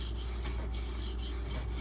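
A knife blade scraping across a hard sharpening stone, a steady dry rasping stroke repeated in a regular back-and-forth rhythm, close and fairly quiet with no voices.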